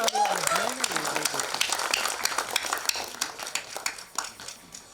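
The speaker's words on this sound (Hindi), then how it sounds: "जोरदार तालियां ladies and gentlemen" Applause from an audience at a film trailer launch event, a dense patter of clapping that fades gradually, with an announcer's voice heard over it at the start.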